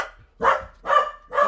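A pet dog barks three times in a quiet room, each bark loud, close and evenly spaced about half a second apart.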